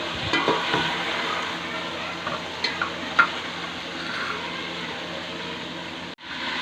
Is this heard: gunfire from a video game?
no